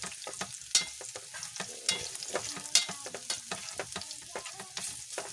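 Garlic, onion and bay leaf frying in a pan for menudo, a close steady sizzle punctuated by frequent knocks and scrapes of a utensil stirring against the pan, with no talking.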